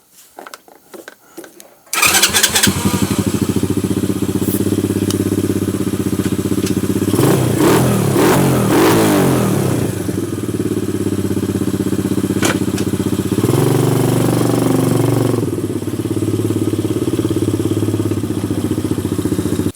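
A small motorbike engine catches after a couple of seconds of quiet, then runs steadily up close, its revs rising gently and easing back a few times.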